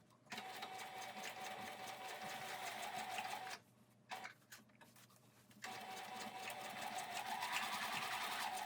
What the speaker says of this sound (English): I have a long stitch length on here initially, just in case I need to rip it out.